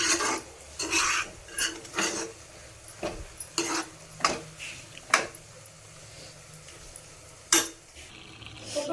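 Carrot halwa with milk and sugar is stirred in a metal pan, producing a series of distinct scraping and clinking strokes at an uneven, unhurried rhythm, close and moderately loud.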